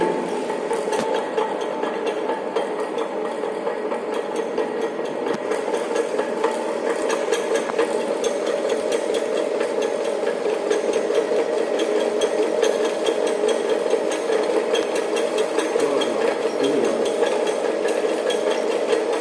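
Governor experiment apparatus driven by a motor at 300 rpm, a steady loud mechanical hum with a fast rattling, knocking texture running continuously throughout.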